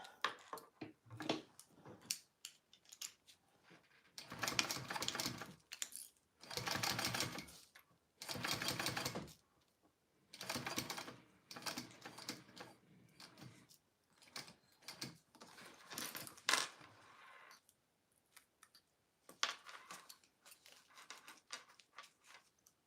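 A sewing machine stitches a bag, its motor running in repeated bursts of rapid mechanical clatter separated by short pauses while the fabric is turned to work a tight angle.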